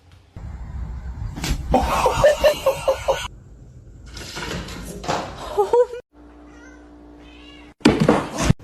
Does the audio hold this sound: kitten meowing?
yes